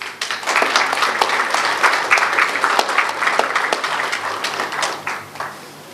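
Audience at a lovebird breeding society's grand opening ceremony in Karachi applauds to welcome a speaker, a steady burst of clapping with a few sharper claps, sustained for several seconds before tapering off.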